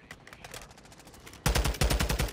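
Gunfire in the video game DMZ starts as faint distant rapid shots, then turns suddenly loud with close automatic bursts hammering in quick succession.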